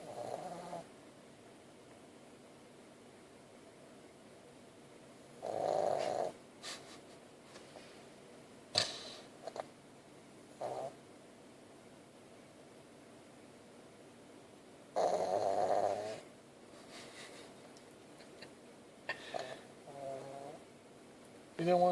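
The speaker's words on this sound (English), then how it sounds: "Oh, you going to snore now?" A dog sleeping in a parked car snores in slow, breathy bursts spaced several seconds apart, with softer snorts and snuffles in between, close and fairly quiet.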